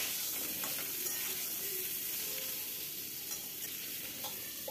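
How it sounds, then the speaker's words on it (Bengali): Pointed gourd (potol) fries in oil in a pan with a steady sizzling hiss, a spatula stirring and scraping through it at a moderate distance, no voices. "পটলগুলো দিয়ে এবার খুব ভালো করে ভাজতে থাকবো।"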